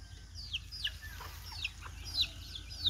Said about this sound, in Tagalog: Mga bagong pisa. Darami na naman ang ating mga alagang Muscovy Brian Duck.